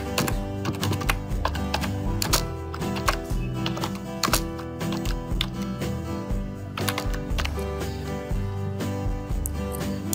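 Rapid keystrokes on a computer keyboard as a channel name is entered, steady close clatter of many taps running throughout with no pauses long enough to break the rhythm.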